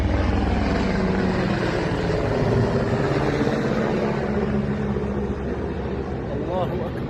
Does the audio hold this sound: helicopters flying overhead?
yes